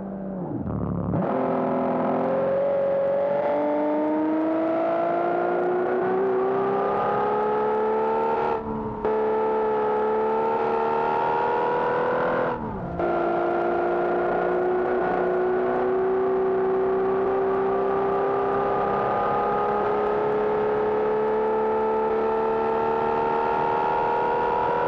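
A loud car engine in the game Automation drones steadily, its pitch climbing through revs with two brief drops like gear shifts, continuous and without talk.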